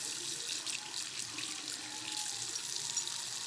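A tap runs lukewarm water in a steady, moderately quiet splashing stream into a sink while a lace frontal wig is cleaned, with no voices.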